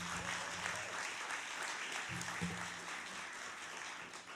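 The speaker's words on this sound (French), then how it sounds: "S'il vous plaît, on applaudit pour nos 4 finalistes." An audience applauds four finalists at a pitch competition final, a steady, moderately faint wash of clapping throughout with a low hum beneath.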